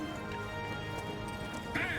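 A horse gallops in the Conqueror's Blade video game, with dense rhythmic hoofbeats under battle noise and a brief neigh near the end.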